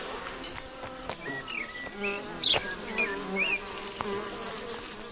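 Bees buzzing around the fermenting sugary sap of lime trees, several close insects droning and whining with wavering pitch as they fly past.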